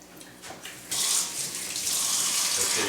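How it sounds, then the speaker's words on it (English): A kitchen tap turns on for handwashing: a short quiet lead-in, then a steady, close hiss of running water filling the rest of the clip, with no speech. "Now we're going to wash hands."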